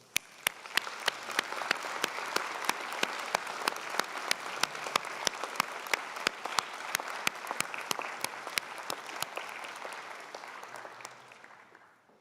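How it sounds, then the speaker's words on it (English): Audience applause for graduates at an afternoon university convocation ceremony, with faculty, friends and family on their feet; steady, dense clapping fills the hall throughout and fades away at the end, with no talking. "Graduates, a round of applause, please."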